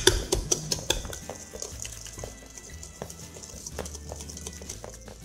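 A hand whisk beats unsalted butter with dark brown sugar in a mixing bowl, making quick rhythmic metallic taps and scrapes, sharper at first and then softer and steady.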